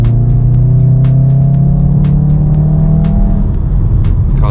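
A VW Golf R MK7.5 with four-wheel drive pulls hard through corners, its engine drone loud and steady from inside the car, with steady low harmonics, a faint ticking overlay and a shift in tone near the end.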